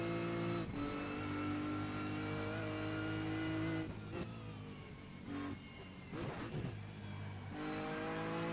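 A GT3 or TCR race car engine drones at high revs on the Nordschleife in a sim racing game, then drops through quick downshifts marked by sharp rev blips and a changing engine tone.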